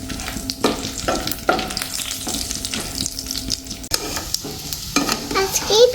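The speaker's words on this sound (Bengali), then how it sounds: "চালটা ঘিয়ের মধ্যে না হালকা করে একটু ভেজে নিচ্ছি" Rice stirred and lightly fried in ghee, a continuous sizzle with repeated scraping strokes of a spoon against the pan about once a second, close and fairly loud, with no voices.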